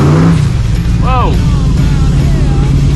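A NASCAR-inspired C10 truck on racing slick tires spins its wheels on a road, a steady loud engine drone with a brief rising squeal of tire chirps over it, and a voice briefly exclaims.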